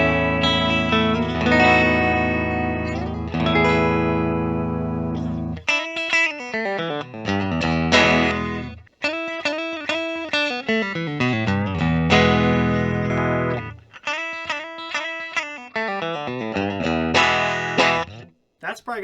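A 2019 Fender Rarities electric guitar on its middle pickup position plays a clean, chorus-tinged run of chords and single notes, close and fairly loud with reverb, each strum ringing out before the next phrase.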